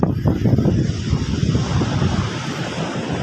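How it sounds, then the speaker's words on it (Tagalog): Strong surf crashing continuously at the sea in Dagupan, Philippines, with heavy wind buffeting the microphone, a loud, rough roar throughout with no talking. "Oh, lakas ng alon. Pati hangin."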